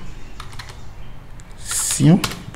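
Typing an answer on a computer keyboard during an educational French conjugation exercise: sparse light key taps over a low background hum, followed by a brief louder rustle or voice near the end.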